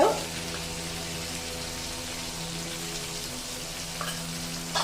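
Asafoetida hits hot oil and ghee in a pan for upma, giving a sharp initial crackle that settles into a steady, close frying sizzle with a brief flare near the end.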